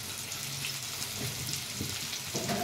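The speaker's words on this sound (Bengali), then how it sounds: "আর এদিক দিয়ে ইলিশ মাছ ভাজা করতেছে" Hilsa fish frying in a pan during cooking for a wedding feast, a steady close sizzle of hot oil with faint clinks and stirring sounds, no talking.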